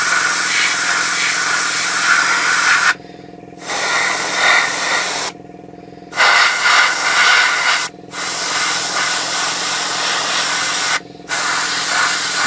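Aerosol spray paint hisses in several loud bursts with short pauses between them, coating a 1/35 scale Takom Chieftain Mk10 tank model across masking tape.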